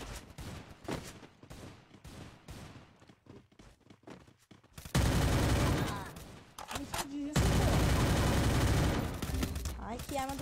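Rapid bursts of gunfire in the video game Free Fire, loud sustained volleys of automatic shots that start abruptly after some lighter clicks and footsteps, with a voice talking over parts.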